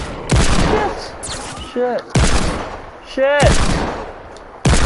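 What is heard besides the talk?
gunfire in the video game Fortnite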